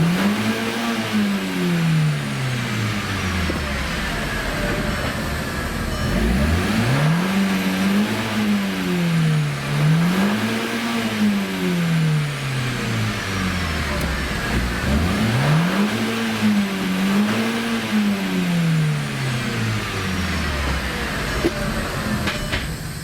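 An Audi TT Quattro engine revs loudly in second gear, rising in repeated pulls and dropping back between them, close and continuous with no talking.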